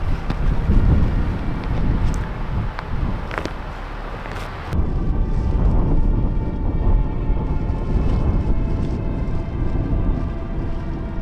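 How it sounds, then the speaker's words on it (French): Cold wind blowing steadily at a winter solo bivouac in the Jura at minus eight degrees, a continuous rushing roar buffeting close to the microphone with gusty swells throughout. "Petit vent frais, hein, petit vent frais."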